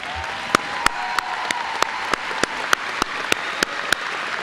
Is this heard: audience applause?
yes